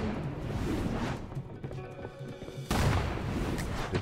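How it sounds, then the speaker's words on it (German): Cannon fire in the video game 9 Monkeys of Shaolin, with heavy low booms and rumbling impacts, a sharp loud blast near the end, and other game sounds in between. "Eine Kanone ist das."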